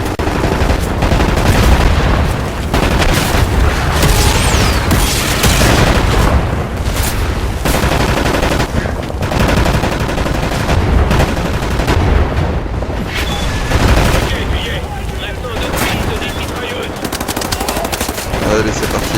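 Sustained covering gunfire in the shooter game Wolfenstein: The New Order, dense rapid machine-gun bursts mixed with booming shots, loud and continuous with scarcely a break.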